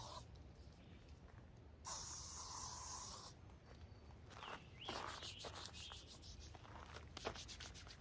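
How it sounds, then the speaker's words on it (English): Off insect repellent sprayed onto skin outdoors in Tioga State Forest: one steady hiss lasting about a second and a half, then softer rubbing and a second shorter spray, faint and close. "Then I'll use the trusty Off for my skin."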